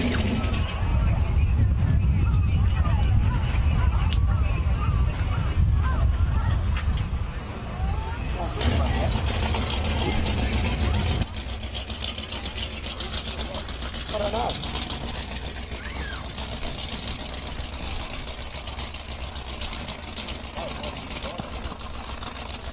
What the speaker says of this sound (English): you'll hear the big blown boats just pumping that methanol out of the deal